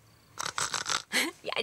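A voice imitates snoring like a truffle pig, producing several short snorting, snuffling bursts in quick succession, close and fairly loud, with no other sound around them.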